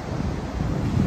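Wind blows steadily on the shore of Lake Michigan in Chicago, a brief, even rush of broadband noise buffeting the microphone, close and fairly loud, with no voices.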